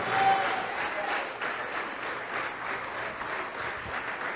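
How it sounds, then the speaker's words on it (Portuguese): Church congregation applauding at a Portuguese-language worship service, a steady wash of many hands clapping at moderate distance that holds evenly throughout with a faint tone briefly audible early on. "E vamos aplaudir ao Senhor por cada vida que está chegando."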